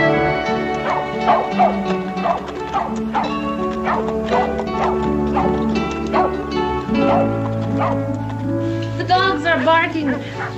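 Several dogs bark and yip repeatedly in an outdoor Western setting, close and lively, with people talking throughout and music underneath.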